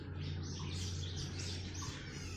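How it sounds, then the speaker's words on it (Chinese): Birds chirp and call along a forest trail, with a dense layer of insects buzzing steadily underneath; the calls are continuous and moderately loud throughout. "这里虫鸣鸟叫，你听到吗？"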